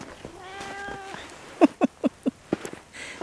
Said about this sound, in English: And Figgy, the orange cat, he's clawed on the door and everything else this morning.